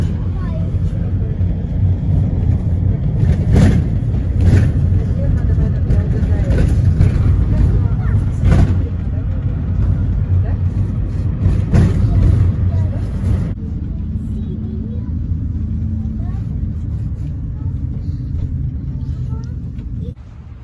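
A car driving on the road, a steady low engine and road rumble heard from inside, with a few louder thumps early on and the noise settling quieter partway through.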